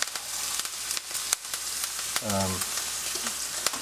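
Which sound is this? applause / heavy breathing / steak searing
steak searing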